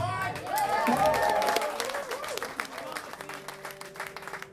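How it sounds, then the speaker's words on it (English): Audience applause at a live concert, with a crowd clapping and cheering loudly at first, then thinning out as a few people call out and a sustained tone hums beneath. "seeing people here clap to our songs"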